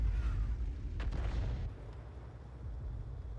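T92 HMC self-propelled artillery gun in a tank game firing one round, a deep booming blast at about one second that fades into low rumble and background hum.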